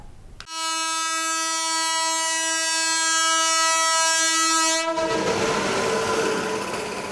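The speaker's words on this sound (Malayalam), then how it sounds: "തിങ്കളാഴ്ച രാവിലെ പാസഞ്ചർ ട്രെയിൻ സ്റ്റേഷനിൽ നിർത്തി" Passenger train at Chirakkal railway station sounding a long, loud, steady horn for several seconds, then rumbling and clattering past nearby as the horn cuts off.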